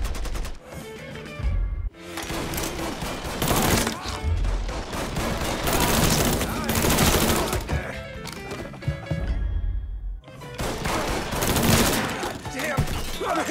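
Gunfire in Mafia 3 Definitive Edition rattles in heavy, near-continuous volleys of close shots, loud and dense with brief pauses between bursts.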